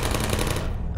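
Rapid turret gunfire in the video game Portal, a short, loud, dense burst of automatic shots that cuts off abruptly after about a second.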